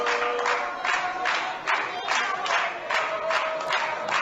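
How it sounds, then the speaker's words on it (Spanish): A large crowd at Cristina Fernández's book presentation in Havana claps in a steady, rhythmic cadence that swells in regular pulses, forming a dense, continuous wash of applause with cheering mixed in. "Ahí están los participantes aplaudiendo, haciendo esos vítores"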